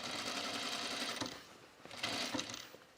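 A sewing machine stitches binding onto a Mercer top, whirring quietly and steadily for several seconds with slight surges in speed.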